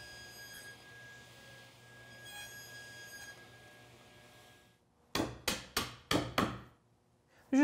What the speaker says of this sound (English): It's pretty quick work with a chisel and a mallet